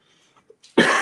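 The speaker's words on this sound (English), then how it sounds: "I don't know where this cough has come from" A single sharp, loud cough bursts out close to the microphone near the end, after a moment of near silence with faint breath sounds.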